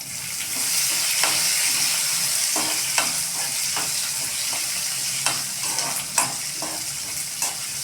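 Onions and green chilies fry in a pan for gobi masala, a steady close sizzle broken by repeated scraping stirs and light clicks of a utensil against the pan.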